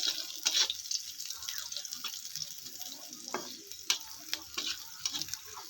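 Chopped garlic frying alongside onion in a pan, a continuous crackling sizzle with intermittent stirring scrapes and clinks, fairly close and moderately quiet.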